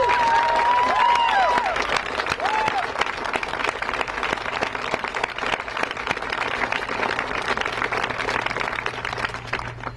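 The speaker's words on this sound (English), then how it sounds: "Mark Larson, deserve a huge round of applause from all of us." Sustained audience applause at a healthcare bill signing, dense steady clapping from a large crowd lasting throughout, with a brief whistle or cheer near the start.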